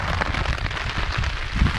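Heavy rain hammers steadily on a tarp in North Cascades National Park backcountry, a dense, loud, continuous patter with no talking.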